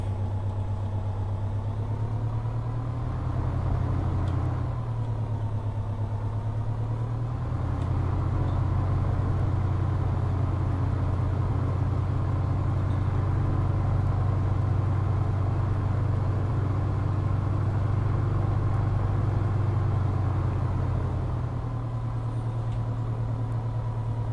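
A Piper PA-28R Arrow III taxiing in a flight simulator game, with a steady droning low engine hum at low power that shifts slightly in pitch over about 24 seconds, alone with no talk.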